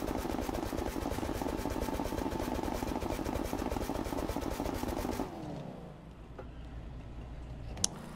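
A Dodge Challenger SRT-8 392 V8 in The Crew 2 rumbles loudly in a steady high rev, then drops abruptly to a quieter idle burble with a brief click near the end.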